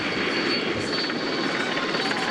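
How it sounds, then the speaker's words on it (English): A camera helicopter flies over the Tour de France stage in the mountains, making a steady, loud, broadband whirring rotor drone with no break and no talking. "as we sneak around with our helicopter"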